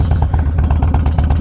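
Harley-Davidson Softail Low Rider S motorcycle engine idling steadily just after starting, a deep, loud, lopey throb with an even rhythmic pulse, close by and alone.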